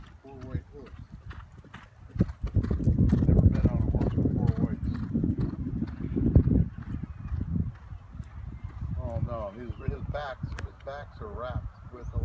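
Horse hooves clip-clopping during a warm-up at Keeneland race track, a steady run of close, distinct hoofbeats with several people talking over them and a honking bird call near the end.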